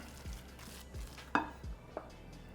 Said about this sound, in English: So mixing this in, and I can already tell that I need more.